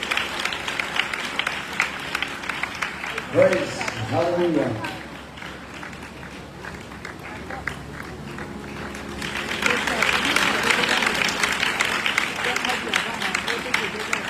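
A Pakistani church congregation applauds a pastor being honored with a garland: a steady wash of clapping, a voice calling out briefly in the middle, then the applause swelling again and holding to the end.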